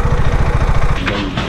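A motorcycle engine putters with rapid, regular low thumps close by, then the rhythmic firing fades into a rougher, less defined rumble.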